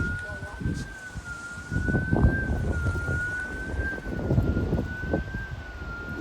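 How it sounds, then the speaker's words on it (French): A car alarm wails with a steady wavering electronic tone through a thunderstorm with wind, over low rumbling gusts and background noise, moderately loud at a distance. "Les voitures sonnent. Les voitures sonnent, wesh."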